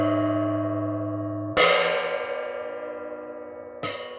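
A metal gong is struck with drumsticks, giving a sustained ringing tone and then two sharp hits, each with a bright attack and a long shimmering decay.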